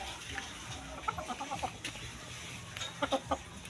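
Chickens cluck in short bursts of a few clipped calls each, moderately close, over a steady outdoor background hum with no talk.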